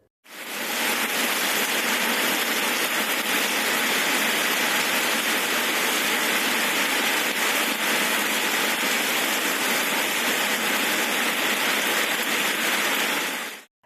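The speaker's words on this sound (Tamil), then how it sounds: "மாநிலத்தின் பல்வேறு இடங்களில் பரவலாக மழை பெய்து வருகிறது" Heavy rain pouring steadily over a wide area during a thunderstorm, a dense, continuous hiss that stays loud and even from start to finish with no voices.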